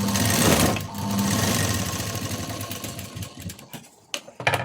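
Sewing machine stitching a blouse, its rapid mechanical whir running steadily, pausing briefly, then resuming before trailing off into a few separate clicks and knocks.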